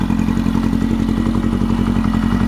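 An old four-cylinder Kawasaki motorcycle engine idles close by, a loud, steady, lumpy throb with an even mechanical clatter and no talking.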